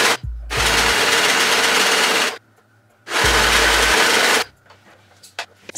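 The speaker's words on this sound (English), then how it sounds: "I'm going to go ahead and go to my serger and sew this now." A serger stitches a bodysuit seam in two long, loud, steady runs of rapid mechanical whirring separated by a short pause, followed by faint handling clicks.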